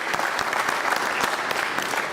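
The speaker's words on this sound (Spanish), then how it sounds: "Lo recibimos con un fuerte aplauso," Conference attendees at JIAP 2014 give a speaker a round of applause, a sustained, fairly even clatter of many hands clapping together with no talk over it.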